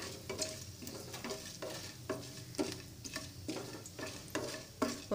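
Cumin seeds and cut dried red chilies frying in oil on a low flame, a close crackling sizzle with regular sharp stirring taps of a spoon against the pan, and no talking.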